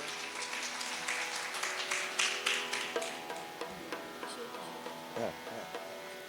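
An audience at a felicitation ceremony claps with a run of uneven hand claps over a steady background hum.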